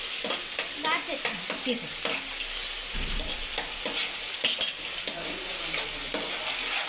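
A spoon stirs and scrapes a spice paste over raw chicken for chicken lollipops in a home kitchen, producing repeated clinks and wet scraping strokes in an uneven rhythm, close and moderately loud, with a single brief spoken word.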